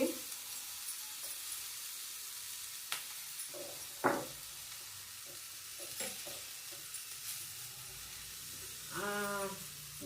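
Ingredients for a green pigeon pea saar roast in a pan with a faint, steady sizzle, broken by occasional soft scrapes and clicks of stirring, then a brief squeaky rattle near the end.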